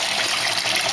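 Water pours steadily into a pot of uncooked rice being prepared for Spam musubi, a loud, continuous close-up gush with no other sounds.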